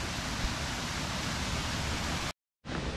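Garden waterfall pouring steadily as a broadband rushing wash, loud and continuous, broken by a brief total silence near the end before the roar resumes.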